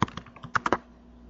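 Quick bursts of keystrokes on a computer keyboard while an Oracle database backup command is typed, about eight close taps in under a second, then quiet.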